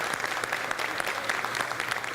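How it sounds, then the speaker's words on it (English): A school board meeting audience claps for third graders, a short burst of even, moderately loud applause with no talking. "Another round of applause for our thriving 3rd graders."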